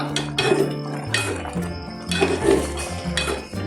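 Cooked kumutti keerai spinach greens turned over in a metal cooking pan, with close clattering scrapes and clinks of a utensil against the pan over a low hum.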